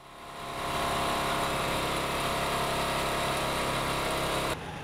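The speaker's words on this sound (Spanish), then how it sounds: "cuando llega el apagón, un estruendo de motores de generadores eléctricos inunda la ciudad" Several petrol generator engines drone steadily through a city blackout in Venezuela, a loud continuous mechanical roar that swells in at the start and holds unbroken until it drops away near the end, with no voices.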